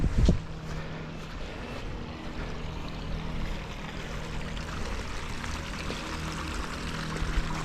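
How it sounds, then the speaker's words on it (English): A garden waterfall in front of a house gives off a steady, broad rush of falling water that runs unbroken throughout, with a couple of faint knocks near the start and end and no talking. "Got a nice waterfall here in the front of the house too."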